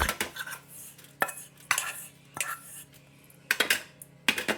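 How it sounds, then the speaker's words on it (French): Oat mixture is scraped out of a salad bowl onto a baking tray in a series of sharp utensil clinks and scrapes, spaced irregularly against a quiet kitchen background. "Je vide le contenu du saladier sur une plaque de cuisson."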